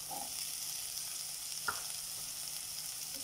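Capsicum and onion fry in a pan for a crispy paneer burger, a faint, steady sizzle running throughout with one brief stir or clink midway, and no talking.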